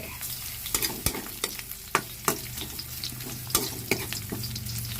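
Fish frying in a pan with ginger being added, making a steady close sizzle broken by several sharp clatters and scrapes of a utensil against the pan, with louder crackling bursts as the ginger goes in.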